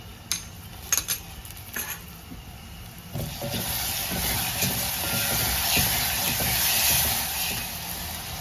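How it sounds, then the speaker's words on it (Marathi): Tomatoes tipped onto softened onions frying in a pan, a few sharp clinks of utensil on metal followed by a steady, close sizzle and hiss that swells and holds. "कांदा झालाय, आता त्याच्यात आपण टोमॅटो टाकूया।"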